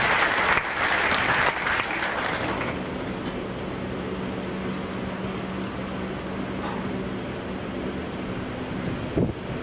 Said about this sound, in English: a warm round of applause for our outstanding students